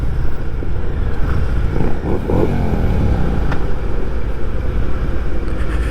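A Harley-Davidson Heritage Classic with the 114 engine rumbles loudly and steadily while being ridden, a deep continuous throb with wind rush layered over it and no talking.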